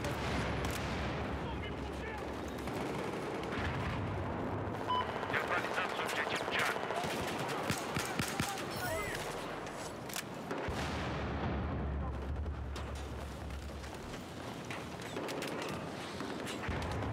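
Gunfire rattles and booms in the Battlefield 4 video game, with dense bursts of shots and explosions over a loud rumbling battlefield that fades in and out. A player talks at times over the action.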